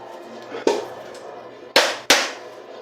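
A Samoan coconut is struck at home: one dull knock, then two sharp, loud cracking blows in quick succession near the microphone, each stopping abruptly.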